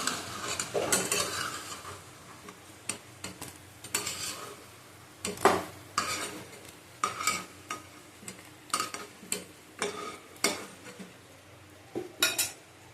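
Raw banana kofta balls frying in a pan, with a soft sizzle beneath repeated clinks and scrapes of a utensil stirring and turning them, in irregular bursts throughout.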